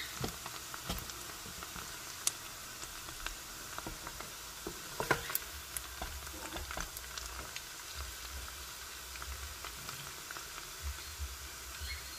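Meat dropped onto fried onions in a pan for Afghan zamarod palaw sizzles faintly and steadily, a soft crackling hiss broken by scattered sharp pops and spits, close by with no voices.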